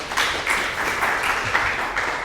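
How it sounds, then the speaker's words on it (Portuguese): An audience at a talk on artistic swimming applauds a professor as she is introduced, with a steady wash of many hands clapping at a moderate distance, slightly pulsing, and no voices over it. "Obrigado aí pelas palmas para a professora."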